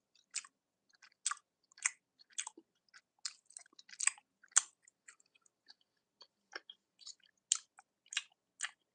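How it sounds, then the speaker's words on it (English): Someone chews food close to the mic in quiet surroundings, making crisp, wet, crunchy bites and smacks in an irregular rhythm with short silent gaps between them. "So just take my chewing as ASMR."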